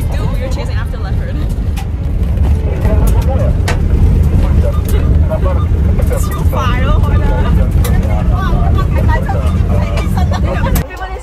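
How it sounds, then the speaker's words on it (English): Safari vehicles drive fast along a dusty road in Kenya while chasing a leopard, the engine and road rumble steady and close, with people talking and chattering over it throughout. "all the vehicles, they drive so fast to see the leopard with the dust"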